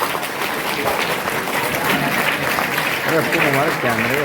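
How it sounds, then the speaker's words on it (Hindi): Audience clapping at a school welcome ceremony and teacher award event, a steady broadband wash of applause throughout, with a voice speaking over it toward the end. "आप तमाम से मैं दरख्वास्त करूंगा कि जोरदार तालियों से इस्तकबाल करें।"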